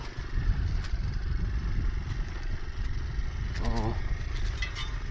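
A motorcycle rides off-road over a slippery sandy track in the Ayodhya hills near Pakhi Pahar, Purulia. Its engine rumbles steadily and close throughout, with clattering and wind noise.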